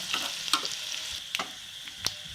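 Garlic sautéing in a pan for dal tadka, a steady close sizzle with a few sharp spatula scrapes and stirring knocks spread across it, no voices.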